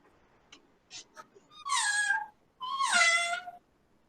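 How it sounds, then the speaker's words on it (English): A mud-covered cat mews piteously, two long drawn-out wailing meows at close range, preceded by a few faint short sounds, with no speech. "The cat mewed piteously."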